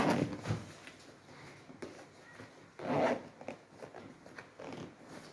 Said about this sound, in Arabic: والسوستة قفلت اهي